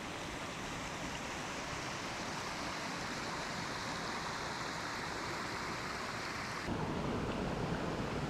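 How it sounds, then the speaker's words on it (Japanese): A small, clear stream flows beside a forest footpath leading to a hot spring near Dumaguete in the Philippines, giving a steady, soft rushing wash with no voices. "すぐ隣に綺麗な小川が流れています。"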